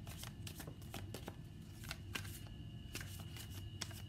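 Tarot cards riffled and shuffled in quick bursts, with crisp flicking clicks close by and no talking.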